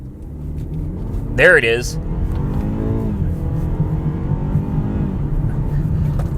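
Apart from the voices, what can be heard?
car engine revving under full acceleration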